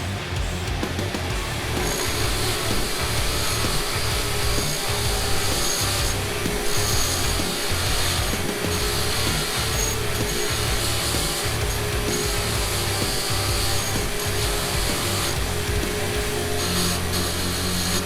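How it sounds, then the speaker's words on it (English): Wire wheel grinding rust off a motorcycle countershaft sprocket, a loud continuous harsh scraping whir with uneven rasping pulses as the part is pressed against the spinning brush. "I'm just going to hit it on this wire wheel and clean her up"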